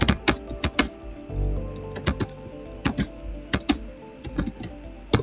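Typing on a computer keyboard comes as close, crisp clicks in quick bursts separated by short pauses, with a brief soft rustle partway through.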